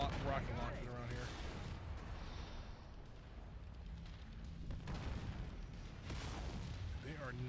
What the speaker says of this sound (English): Oh boy, a lot of rocket launchers around here.